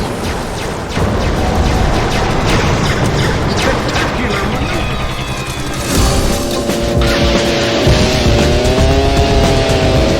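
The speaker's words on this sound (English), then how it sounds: "This is car combat with attitude. Shots in all directions." Vehicular combat video game action, with cars racing and shooting in all directions: a dense, continuous wall of revving engines, tire squeals and skids, punctuated by booms and impacts, loud throughout.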